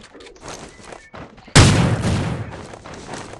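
A loud shotgun blast from the mobile battle royale game Rules of Survival, bursting in sharply midway after quieter game noise and decaying with a long rumbling tail.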